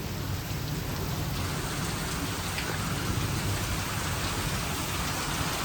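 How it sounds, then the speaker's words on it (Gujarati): Heavy rain pours steadily on a farm during a storm, a dense, even hiss of drops on surfaces continuing without pause, moderately loud and unbroken by voices. "ફૂલ વરસાદ પડે છે"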